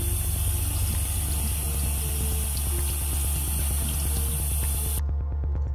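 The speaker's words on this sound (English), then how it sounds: "As the water runs on my palm, it is repelled by a thin coating of aerogel dust." Water pours steadily onto an open palm coated with fine aerogel dust, a continuous loud splashing spray that runs unbroken for about five seconds and then cuts off abruptly.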